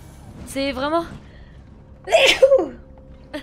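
A person sneezes sharply once, close and loud, right after someone speaks briefly in French, during a playthrough of Alien: Isolation.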